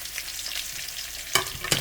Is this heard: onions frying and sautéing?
yes